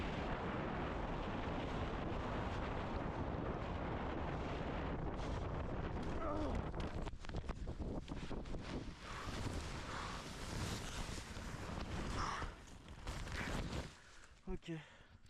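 Strong gusting onshore wind building during a speed riding session roars and buffets the microphone, with rumbling bursts that ease off toward the end.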